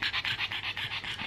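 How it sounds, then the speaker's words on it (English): A small pug pants quickly and rhythmically, about ten breaths in just over a second, each a breathy, wheezy puff close to the microphone, with no voices. "She's a very, very snorty little mongrel."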